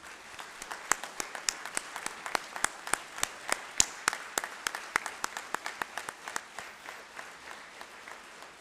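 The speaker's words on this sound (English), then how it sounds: "Can we have a round of applause for them?" An auditorium audience applauds young medicos at a white coat ceremony, steady rhythmic clapping with sharp individual claps standing out, sustained for the whole stretch at moderate loudness.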